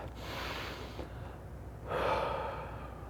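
A slow, deep breath taken while lying back in a hip-opening stretch: a soft, long airy inhale, then a louder, breathy exhale, close to the microphone in a quiet room with no speech.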